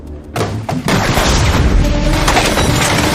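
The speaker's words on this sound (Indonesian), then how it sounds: "pada akhirnya mereka berdua terlibat baku tembak" Gunfire in a film shootout between a hitman and a woman, a loud sustained barrage of booming shots and crashes filling the mix with no pauses, dense and close.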